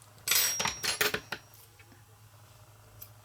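Scissors snip crochet yarn close by: a quick cluster of sharp metallic clicks and snips, then a short, fainter click and near silence.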